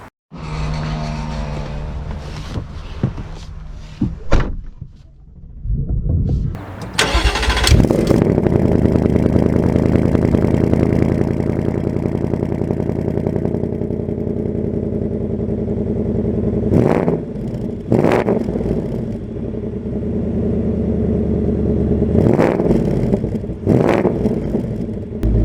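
A 2024 Ford Mustang GT's V8 engine cranks and fires, settles into a deep idle, then pulls away with a strong sustained rumble and several loud revving surges as it drives off.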